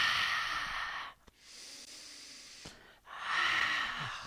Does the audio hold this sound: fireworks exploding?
no